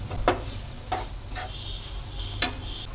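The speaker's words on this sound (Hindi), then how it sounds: "और अब इसमें हम स्वाद अनुसार नमक डाल देंगे और इन मसालों को अच्छी तरह से हम भून लेंगे।" Salt and ground spices roast in hot oil for an Indian dahi tadka, with a few sharp spoon scrapes and clicks over a quiet, steady background sizzle.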